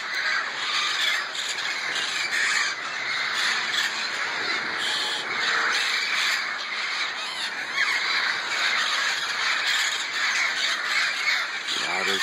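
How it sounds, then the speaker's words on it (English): A large flock of birds, crows among them, calls outdoors in a dense, continuous chorus of overlapping caws and squawks, fairly distant and steady throughout. "look at all these fucking birds"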